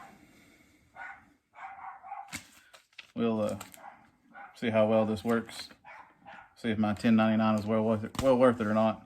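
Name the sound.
dogs barking outside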